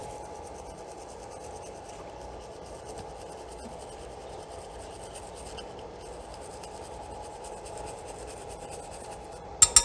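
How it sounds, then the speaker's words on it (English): A toothbrush scrubs the plastic shell of a Game Boy DMG during a restoration, a steady close rasping rub that runs evenly throughout with no speech, ending in a couple of sharp knocks. "I'm just gonna use that toothbrush, scrub her down."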